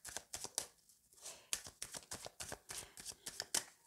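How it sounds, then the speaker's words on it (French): A deck of tarot cards being shuffled by hand, a steady run of crisp riffling snaps and soft slaps at close range, with no talking. "je vais remélanger parce que du coup, le dos de deck n'est pas bon"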